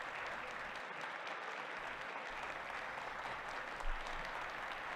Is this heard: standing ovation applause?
yes